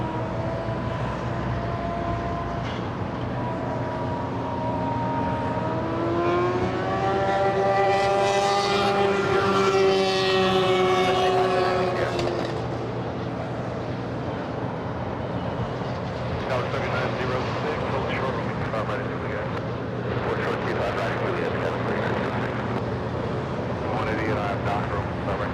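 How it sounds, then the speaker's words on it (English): A Southwest airliner landing at LAX on the north side, a loud sustained jet roar with rising and falling engine whine that swells to a peak mid-pass and then fades into a broad rumble, with a voice talking over it. "then we can go to Southwest. Landing in the north side."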